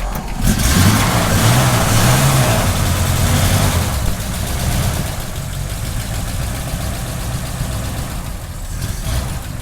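A 1951 Ford F-1 pickup engine idles in a steady, low, even rumble close by, running smoothly and softly throughout with a slight dip in level partway through.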